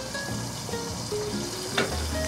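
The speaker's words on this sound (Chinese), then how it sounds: "我们把我们的小面包再给它煎香一下" Small burger buns fry in butter in a hot pan for a double cheeseburger, giving a gentle steady sizzle close by with faint clinks, no speech.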